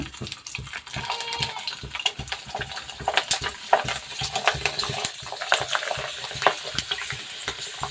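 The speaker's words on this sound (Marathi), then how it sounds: "आता आपण पापड तळून बघू" A whole sabudana-potato papad fries in hot oil, giving a steady, close crackling sizzle with frequent sharp pops and occasional stirring scrapes, with no one talking.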